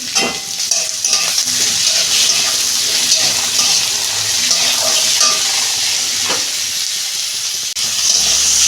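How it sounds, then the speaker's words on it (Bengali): Vegetables sizzle and crackle steadily in a hot kadai with a little salt, with occasional stirring scrapes, close and continuous throughout. "দু মিনিট ভেজে নেবো সবজিগুলো আমি অল্প নুন দিচ্ছি"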